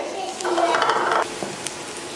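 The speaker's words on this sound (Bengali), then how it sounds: "পেঁয়াজ আর রসুনটাকে আমি একটু ভালো করে ভেজে নিচ্ছি" Chopped onion and garlic frying in oil in a pan, a brief sizzle with a stirring scrape and light clinks, close and moderately loud.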